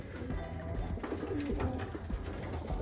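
Cock racing pigeons coo continuously in a stock loft, several birds calling at once in a steady, layered murmur close by, with no talking over them.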